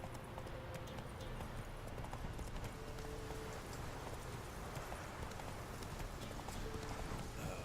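Roach, Geralt's horse in The Witcher 3, gallops with a steady, rhythmic clip-clop of hooves running without pause, moderately close, over faint ambient game sound.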